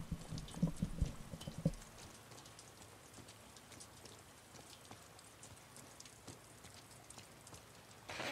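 Steady rain patters on a surface in The Last of Us Part II, with a few louder thumps and clatters near the start before settling into an even hiss.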